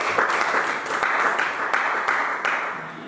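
Church congregation clapping and cheering in praise of Jesus, a loud, sustained wash of applause with sharp individual claps standing out, steady before tapering slightly at the end.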